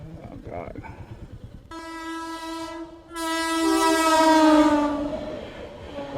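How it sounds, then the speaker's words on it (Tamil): Rajdhani Express train horn sounding loudly at a railway crossing, a long sustained blast that swells and holds over the rumble of the passing train, with faint movement noise beforehand. "ராஜ்தானி எக்ஸ்பிரஸ்."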